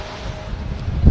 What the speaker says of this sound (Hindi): हवाएं काफ़ी तेज़ हैं यार